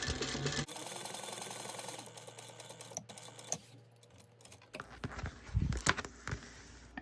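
A sewing machine runs in steady bursts, its needle chattering quickly as it stitches a fabric bow for a bag, with brief pauses and small handling clicks between runs.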